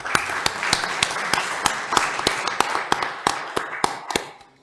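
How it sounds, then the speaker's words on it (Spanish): Audience applause for a speaker at a criminal-procedure and corruption seminar: a few people clapping in a sparse, uneven rhythm that fades out at the end. "le solicito un fuerte aplauso para el doctor Daniel Pisis"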